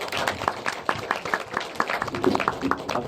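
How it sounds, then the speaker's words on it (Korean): An audience at a post-screening guest talk at the 28th Bucheon International Fantastic Film Festival gives brief, lively applause, a dense patter of claps that holds steady for a few seconds. "큰 박수 한번 부탁드리겠습니다"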